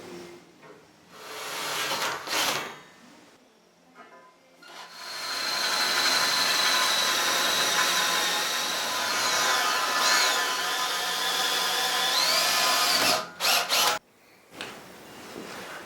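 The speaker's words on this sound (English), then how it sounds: "Drilling the holes in the angle iron for the tongue." A power drill whines steadily through steel angle iron for about ten seconds, drilling holes for a cultipacker tongue, bracketed by short bursts and clunks of handling.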